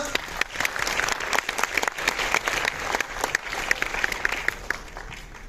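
Loud, sustained applause from a crowd at a Bhojpuri film award ceremony, dense rapid clapping that holds steady throughout, with a few sharper claps standing out near the microphone.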